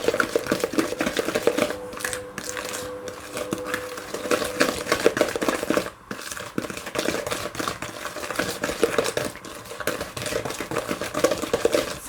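Pear loaf cake batter is stirred briskly in a bowl, producing a dense, continuous clatter of a spoon knocking and scraping, close and fairly loud throughout.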